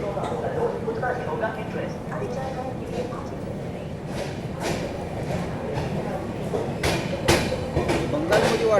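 The Vivek Express runs on its rails with a steady low rumble and scattered rattles and clacks, while people talk over it throughout.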